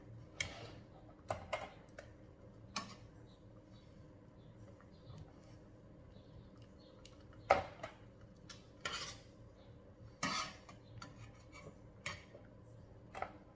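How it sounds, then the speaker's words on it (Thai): Boiled bael fruit dregs are scooped out of a cooking pot, with quiet, intermittent clinks and scrapes of a utensil against the pot spaced irregularly. "พอเราต้มสุกเราแล้วเราก็จะตักกาก ออกนะคะ"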